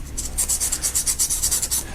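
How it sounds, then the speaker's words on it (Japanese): Graphite pencil tip rotated against 400-grit sandpaper, a fast run of about a dozen short, even rasping strokes, close and crisp, with no voices. "400番の紙やすりなんですけど、この先端部分尖らせるのに、こんな感じで、回しながらですね、軽くやすりがけしてあげます。"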